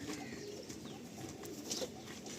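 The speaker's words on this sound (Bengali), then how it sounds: "পায়রা দেখুন" Pigeons cooing softly at a seller's loft in Metiabruz, low continuous murmuring coos over a steady background hum, with faint chirps and no talking.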